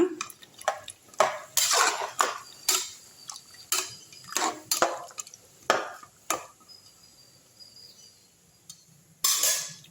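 Metal spoon scraping and clinking against a pot of chicken curry in a series of sharp, irregular strokes, close by, with quiet pauses between.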